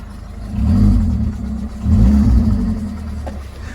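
A Citroen AX 1.0 engine runs close by with a low rumbling idle, rising in two short revs before settling back.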